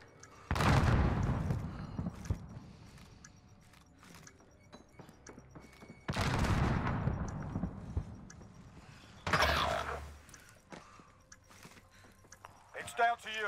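Gunfire in a Modern Warfare hardcore Search and Destroy match, three loud bursts of shots with long decaying echoes spaced several seconds apart, with quieter clicks and faint footsteps between them.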